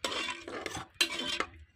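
A utensil scrapes and clinks against a pot in a few quick, close stirring strokes as water is mixed into chana curry, with short pauses between them.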